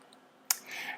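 A single sharp computer mouse click, brief and close, against faint background hiss.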